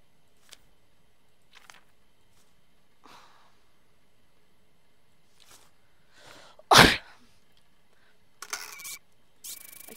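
In the video game Papers, Please, a character lets out one sharp, loud sneeze, with a few faint breathy sniffs and small clicks before it and a brief rustle after, in otherwise quiet surroundings.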